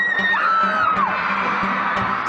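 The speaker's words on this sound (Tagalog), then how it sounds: "Nakakatuliling na sigawan." A crowd of fans screams and whoops loudly and close by, one high shrill cry rising and falling over a dense roar of yelling voices.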